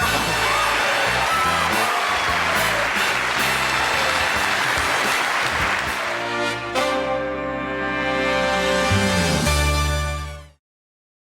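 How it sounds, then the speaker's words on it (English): A television studio audience on a 1981 late-night talk show breaks into loud, sustained applause with some whoops, swelling steadily before tapering off and stopping abruptly near the end. "I'm humbled by that applause."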